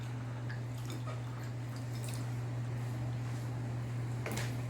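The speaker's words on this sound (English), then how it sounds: "Put it in some water to remove some gunk and wash it" A cut onion is rinsed in water, giving soft scattered drips and splashes over a steady low electrical hum, faint and without talk.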